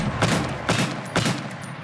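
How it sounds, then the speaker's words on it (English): An assault rifle in the video game Oil Warfare Tycoon fires three loud, evenly spaced shots, each with a sharp crack and a lingering tail over steady background noise. "This is probably the best sounding gun in this whole game"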